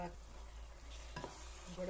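Avarebele curry with ground coconut gets stirred in a pan, with a soft sizzle and a short scraping stir near the end, close and quiet.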